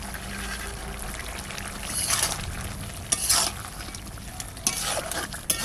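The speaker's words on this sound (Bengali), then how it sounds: "এবার ভাজা মাছ কটা দিয়ে দেবো" Small fried koi fish go into a bottle gourd curry bubbling in a wok, with a soft continuous simmer and sizzle broken by a few sharp ladle clinks and scrapes, close and without talk.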